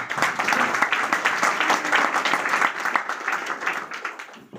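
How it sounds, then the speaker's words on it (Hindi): A crowd applauds steadily, many hands clapping in a dense, continuous patter that gradually thins toward the end. "तालियां तालियां तालियां।"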